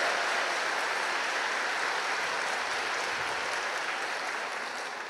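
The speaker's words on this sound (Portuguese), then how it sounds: "Então dá uma salva de palmas a Jesus." A church congregation applauds for Jesus in dense, sustained clapping that stays loud and even, easing slightly at the end.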